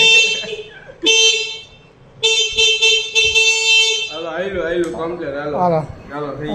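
A vehicle's electric horn, tested after wiring work during reassembly, blares in three loud, sustained blasts close by. Afterward someone talks.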